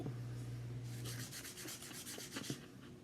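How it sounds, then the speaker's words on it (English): A pumpkin seed's edge is rubbed against another seed to sand it, a close, steady scratchy rasping that grows into a rhythmic run of short strokes before slowing. "You can use the sandpaper to sand, or you can just use the seed."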